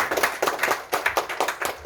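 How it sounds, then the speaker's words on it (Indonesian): Congregation clapping during a church service, a short burst of rhythmic, fairly close hand claps in a steady beat lasting about two seconds, with no talk over it. "Tepuk tangan bagi Tuhan."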